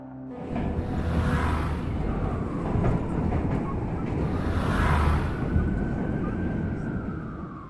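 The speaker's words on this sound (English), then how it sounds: "the chase under the iconic elevated train tracks works because the environment, the low ceiling, the steel beams, and the constant rumbling overhead" A heavy, continuous rumble like an elevated train passing overhead on steel tracks, loud and low with swelling peaks, sounding enclosed beneath a low ceiling of beams.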